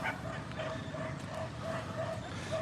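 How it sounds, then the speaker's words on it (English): Dogs barking in the distance at a home, a series of faint, regular yaps buried under steady broadband background noise. "You hear the dogs barking."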